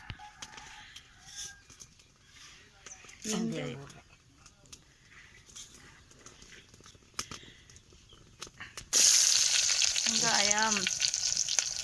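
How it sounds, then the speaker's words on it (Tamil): Oil for tempering Tamil puli kulambu hisses sharply in a pan, a loud sizzle bursting in near the end after quieter kitchen sounds and a voice talking. "எண்ணெய் ஊற்றுறோம் தாளிக்க."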